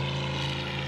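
A small propeller-driven 'helicopter boat' drones steadily and loudly on the water, its engine a constant close hum with no break.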